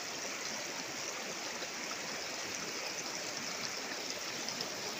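A river flowing around a large rock in its middle, with steady rushing stream water, broadband and continuous throughout, close and alone with no talk.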